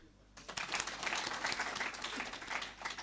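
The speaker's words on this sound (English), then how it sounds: "Can I say we clap a little bit for Mama Nuria?" A burst of audience applause at a book launch event, dense steady clapping from many hands that starts abruptly and holds at moderate level for a few seconds.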